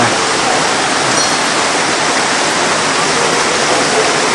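Water flowing at Taktsang Tiger's Nest monastery in Bhutan makes a loud, steady broadband rush, close by and unbroken, with no talk over it.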